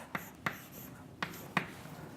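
Four short, distinct scratchy strokes of writing on a board during a maths lecture come in two pairs, fairly faint against a quiet room, with no talking over them.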